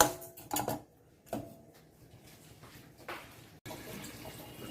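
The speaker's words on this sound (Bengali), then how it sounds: "কুকারে এখন জলটা দিয়ে দেবো একটা জল দিয়ে রেডি করা থাক" Water goes into a pressure cooker in a home kitchen: a few short splashy bursts, a quiet pause, then a steady low rush of pouring near the end, with no talking.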